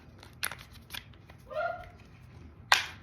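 Cards pulled from and slid back into a Ridge wallet, heard as a few sharp snaps and scraping slides spread over a few seconds, close and clear with no talking.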